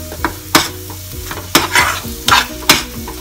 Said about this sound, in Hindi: तो मिक्स कर रहे हैं शक्कर को इसमें